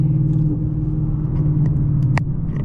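A Ford Mustang GT S650 fitted with FBO upgrades rumbles steadily up close in a canyon, its exhaust holding a loud, throaty low drone with a brief sharper blip near the end.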